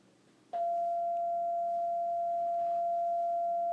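A single electronic bell tone strikes and then rings on as a steady, clear sustained pitch over a faint background hum, with no voices.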